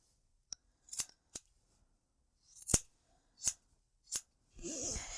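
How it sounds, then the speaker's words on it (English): Scissors snip around a yarn pom-pom being trimmed even, giving a string of sharp, separate cuts spaced irregularly and heard up close, ending in a rougher rustling burst of yarn handling. "use your scissors and shape and trim your pom-pom so it's nice and even"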